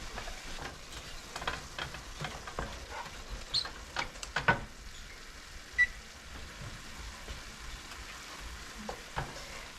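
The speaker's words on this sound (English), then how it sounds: "it is taking a little bit longer for my meat to brown" Beef, partly still frozen, browning in a pan for a beef casserole, giving a soft, steady sizzle with occasional stirring taps and scrapes, fairly quiet throughout.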